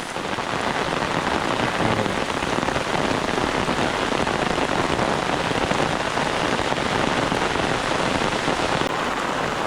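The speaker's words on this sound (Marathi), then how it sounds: "हो बघा पाऊस येलो" Steady, heavy rain pours down close by in an outdoor village setting, a dense unbroken hiss that holds at the same strong level throughout, with no voices.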